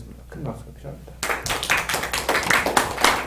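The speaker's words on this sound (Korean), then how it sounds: "큰 박수가 필요합니다." A church congregation breaks into loud, dense applause after a brief stretch of voice, with many hands clapping close by until the end.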